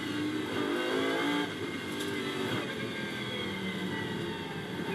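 Lamborghini Super Trofeo race cars on track at Barcelona, engines droning steadily with revving as they accelerate and brake, a continuous loud mechanical roar with no talk.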